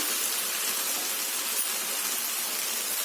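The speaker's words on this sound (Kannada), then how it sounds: "ನಾನಿಲ್ಲಿ ಒಂದು 3-4 ಸ್ಪೂನ್ ಅಷ್ಟು ನೀರು ಹಾಕ್ತಾ ಇದ್ದೀನಿ." A few spoonfuls of water hit a hot pan of brinjal stir fry, giving a steady, even hiss and steam sizzle that holds loud and close throughout.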